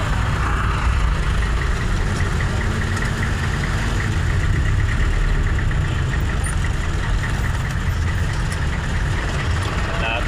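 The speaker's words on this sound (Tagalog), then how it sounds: "Traffic mga idol, traffic." Idling car and truck engines hum in heavy traffic, a constant low rumble with a faint rhythmic engine pulse running through it.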